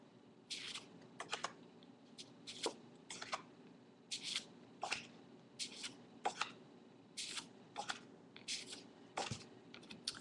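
A stack of 5x7 watercolor reproduction print cards flipped through one by one, producing quick, quiet papery flicks in a steady rhythm of short bursts, close and alone.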